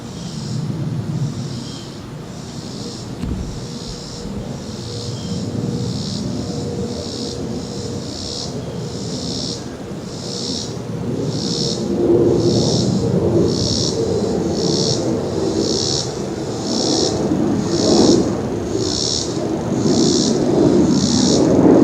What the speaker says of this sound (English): There goes the next takeoff.